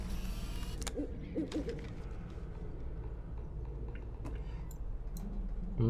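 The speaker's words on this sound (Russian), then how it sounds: "Ой, блядь, сова." An owl hoots at night in the video game Life is Strange, a few soft low calls early on over quiet ambient background noise.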